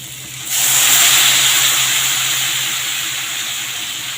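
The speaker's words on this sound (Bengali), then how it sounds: "এর মতো অবস্থায় এবার পরিমাণ মতো জল দিয়ে দেবো।" Water poured into a hot pan of fried ghatkol stalks sends up a sudden loud hiss and steam sizzle after a quiet half-second, holding strong and slowly easing off.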